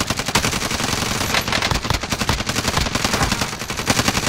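Call of Duty Warzone gunfire, loud continuous automatic bursts with rapid overlapping shots filling the whole stretch without pause.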